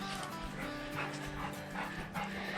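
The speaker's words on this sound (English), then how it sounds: "2 dogs super excited" Two excited dogs pant quickly and steadily close by, heard faintly over a low background hum, with no talking.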